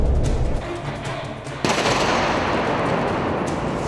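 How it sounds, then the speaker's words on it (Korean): Ammonium nitrate explosive charges go off at an army engineer school training ground: a heavy rumbling roar breaks into a sudden loud blast midway, then a sustained crackling, booming rumble. "암모늄 나이트레이트 폭파."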